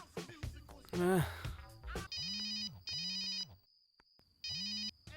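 A phone ringtone plays in three repeated electronic bursts with a steady buzzy tone and short gaps, following a brief burst of voices.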